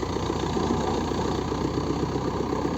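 A tractor engine idles steadily nearby, a continuous low rumbling chug with a faint rattling vibration.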